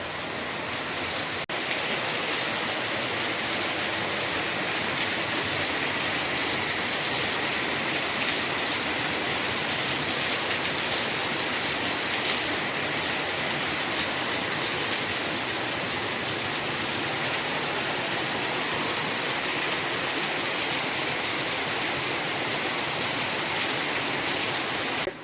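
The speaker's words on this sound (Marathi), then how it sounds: "खूप जोरात पाऊस आहे, खूप जोरात पाऊस चालू आहे." Heavy downpour during the season's first rain, a dense and steady roar of falling water that holds loud and unbroken throughout, with no voices.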